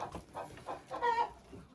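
Hens in a winter chicken coop give a few short, throaty clucks in uneven bursts, moderately close and fairly soft.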